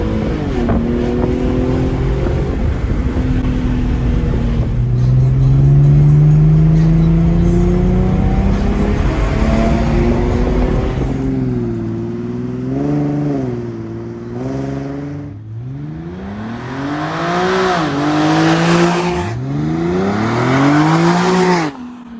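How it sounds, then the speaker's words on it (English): Infiniti G37 with a straight-pipe exhaust and mufflers removed revs loudly and repeatedly, its engine note climbing and dropping in long sweeps, close and dominant with no talking. "we just finished doing the straight pipe for the car. We just unhooked the mufflers."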